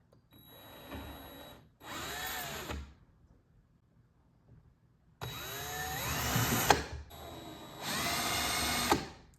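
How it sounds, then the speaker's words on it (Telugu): An electric drill whirs in four separate bursts, its whine rising as the bit bites into the wall while making holes for mounting a TV, with quiet pauses between. "so let's drill"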